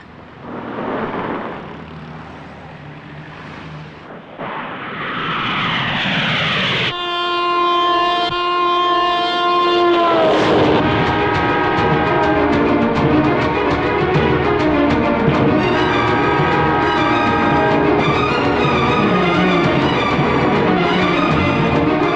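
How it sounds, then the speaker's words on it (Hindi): A train draws near with a rumbling, clattering build-up, then sounds a loud, sustained multi-tone horn. Heavy rolling clatter of the passing cars continues after the horn, with no voices. "देखो यादव, लड़की अकेली ट्रेन के सामने जा रही है।"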